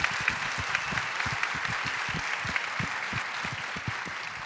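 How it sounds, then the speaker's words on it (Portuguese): Audience applause at a talk on stereotypes of women's bodies, a steady wash of many hands clapping throughout with no voices over it. "Pode aplaudir."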